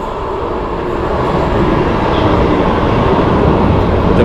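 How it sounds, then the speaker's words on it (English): A Helsinki metro train approaches with a steady, loud rumbling roar of wheels on rail that builds slightly and stays continuous throughout, with no voices. "the metro is approaching."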